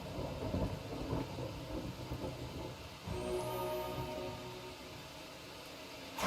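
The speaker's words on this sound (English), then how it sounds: "I hear thunder right after thunder strikes" Thunder rolls in a fantasy role-playing video game, a low continuous rumble with a sharper crack midway, heard alone under a rain-like wash.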